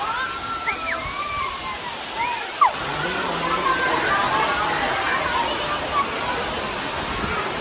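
Water fountains spraying and splashing outdoors in the evening near a large statue, a steady broadband wash of falling water with a brief louder splash, with people talking under it.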